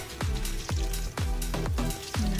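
Saba banana pieces fry in oil with sugar for banana cue, giving a close bubbling sizzle that swells and dips in a regular pulse, with no talking.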